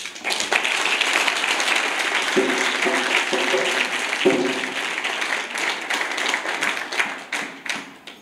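An audience at a training camp for youth holiday-camp instructors applauds to honour a longtime instructor, steady dense clapping throughout with a few louder thumps near the middle, tapering off at the end.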